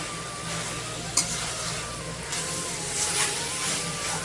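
Radish sabzi in a pan being stirred after coriander leaves are added, a steady close sizzle with a brief utensil knock and scraping sounds, no speech.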